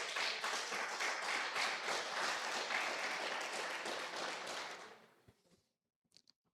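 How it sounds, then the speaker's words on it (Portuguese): Sustained applause from a church congregation fills a large room, dense and steady for about five seconds before fading out to near silence with a few stray claps at the end. "Quem pode aplaudir o Senhor?"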